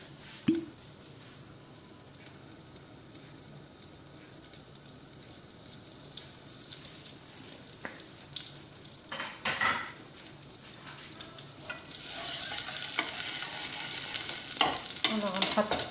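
Butter and a spoonful of oil heat in a pan as the base for a béchamel sauce, giving a soft, steady sizzle and crackle with occasional stirring and scraping noises, growing a little louder toward the end.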